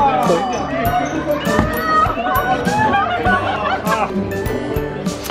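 A crowd of children and adults cheering and chattering at a children's balloon-stomping game at a birthday party; lively, overlapping shouts and laughter, with loud bursts and continuous babble throughout.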